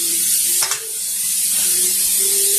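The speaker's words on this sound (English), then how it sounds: "I'm going to spray this. Give it a real good spray." Cooking spray hisses onto a 9-inch springform pan in a long, loud, close continuous spray with one short break, over a faint kitchen hum.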